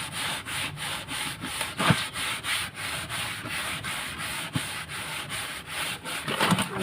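Brisk, rhythmic scrubbing with brick powder works the bottom of an iron kadai, a continuous gritty rubbing with steady back-and-forth strokes, close up and unaccompanied by speech.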